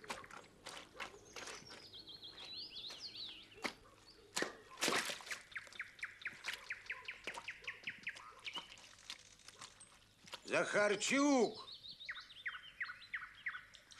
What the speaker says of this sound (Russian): шабани ты эту птицу, мешает